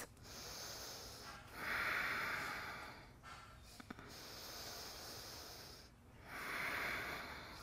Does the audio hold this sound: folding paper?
no